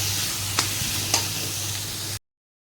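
Masala for stuffed bitter gourd sizzles and fries steadily in a pan while a spoon stirs it, with two sharp scraping knocks partway through before the sound cuts off abruptly.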